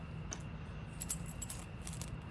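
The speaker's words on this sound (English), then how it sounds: "Moving to your keys." A set of keys for a 2023 Jayco 265RLS travel trailer jangles in a few soft, brief metallic bursts over a steady low hum.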